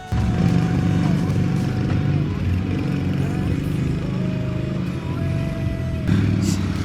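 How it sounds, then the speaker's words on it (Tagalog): A motorcycle engine drones steadily and close throughout, a continuous rough mechanical rumble while riding, with voices faintly mixed in. "Si Jan nag-enjoy sa motor ni Kuya."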